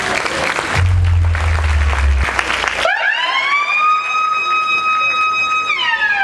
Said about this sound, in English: Please keep those hands clapping until she gets back to her seat